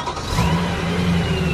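A BMW E92 M3 with a modified exhaust revs steadily, a continuous mid-range engine drone holding fairly loud and close for a short stretch with no voices.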